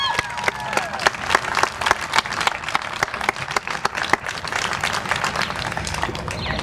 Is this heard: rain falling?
no